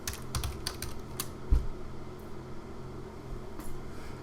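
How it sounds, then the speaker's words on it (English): Computer keyboard typing in a few quick bursts of clicks, close and fairly clear, over a steady low room hum with no talking. "I can type in heart here for just a second, and we'll type in understanding."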